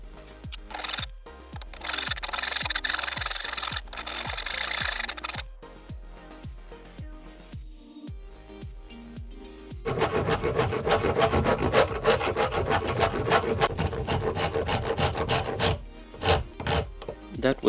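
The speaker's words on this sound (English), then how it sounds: "rounding the edges with the rasped metal files until it feels good to hold in your hand" Rasping and filing on a hardwood tree fork with metal rasps and files, rhythmic scraping strokes at close range. A harsher, brighter burst of strokes comes first, then steadier, denser rubbing continues to the end.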